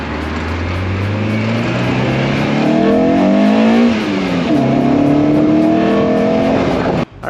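Lifted Toyota KE70 on a test drive, engine rising and falling through several revs as it accelerates and shifts, loud and steady throughout.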